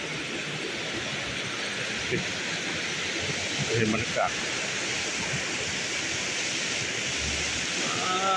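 A waterfall behind a bungalow at a mountain nature resort in Vang Vieng sends up a steady, broad rushing roar throughout, with a person talking over it now and then.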